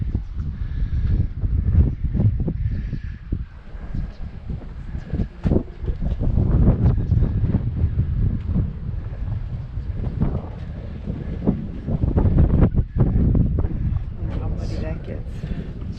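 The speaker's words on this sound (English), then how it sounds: "It's very windy up here." Strong wind buffets the microphone at the top of a tower in Skidaway Island State Park near Savannah, Georgia, a steady roaring rush with gusty swells that continues throughout the clip.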